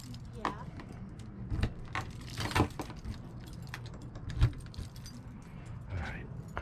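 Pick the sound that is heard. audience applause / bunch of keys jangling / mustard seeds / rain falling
bunch of keys jangling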